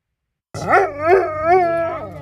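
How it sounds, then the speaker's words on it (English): A golden retriever at a dog day camp in Santa Clarita howls in long, wavering, rising and falling notes, loud and close for about two seconds after a moment of silence, with no talk. "It's playtime for Golden Retriever Logan at the Castaic Canine Camp in Santa Clarita"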